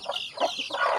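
Several black chickens cluck and squawk close by in quick, overlapping bursts, with no talking.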